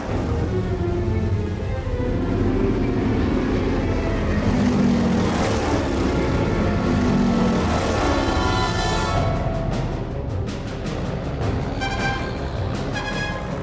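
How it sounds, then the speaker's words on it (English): Japanese carrier aircraft take off from a fleet of aircraft carriers turned into the wind, a loud sustained roar of propeller engines that swells and passes, with steady rushing background noise throughout. "The fleet turns into the wind and starts launching its aircraft."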